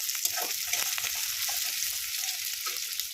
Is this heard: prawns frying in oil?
yes